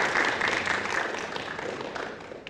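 An audience claps together in steady, dense applause at a formal ceremony, a continuous wash of hands from a large gathering that stays fairly even in loudness throughout the short burst.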